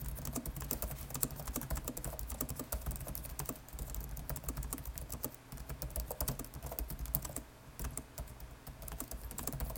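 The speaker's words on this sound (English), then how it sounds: "The keyboard is not that bad actually. It's very clicky and sounds really nice." Typing on the clicky RGB backlit keyboard of an MSI Crosshair 15 laptop, a steady stream of sharp, close key clicks at a fast irregular rhythm with a brief pause midway, no voices.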